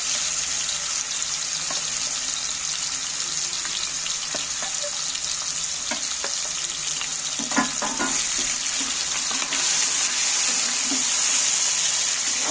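Chicken marinated in yogurt sizzles and hisses in hot oil in a pan while being stirred, a steady wet frying crackle with occasional scraping bursts, close and continuous, no voices.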